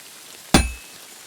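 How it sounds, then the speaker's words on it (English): A single sharp metallic clang as a hammer strikes metal at a smithy in Kingdom Come Deliverance II, loud and close, ringing briefly before fading into quiet. "have to hammer it more evenly."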